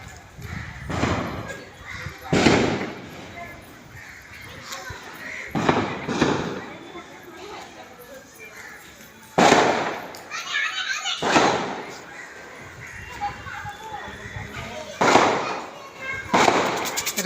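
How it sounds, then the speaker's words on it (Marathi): Firecrackers burst outside a temple at night after rain, sharp loud bangs arriving singly and in quick clusters at irregular intervals, with quieter crackle and background murmur between them. "फटाके बघ कसे वाजतात"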